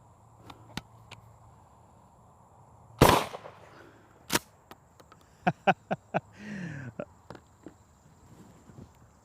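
A Mossberg 590S shotgun fires a 2 3/4 slug at an outdoor range, one sharp loud blast followed by clicks and clatter of handling and a few light knocks, with brief voices nearby.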